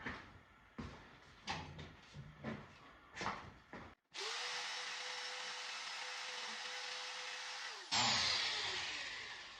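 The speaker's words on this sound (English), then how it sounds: "I'm going to take and grind off the tip of this right here so it's not sharp." A power grinder runs steadily for about four seconds, loud and continuous, taking the sharp tip off a part while working on a 1971 VW Super Beetle coolant hose fix, after a stretch of scattered clanks and handling noise.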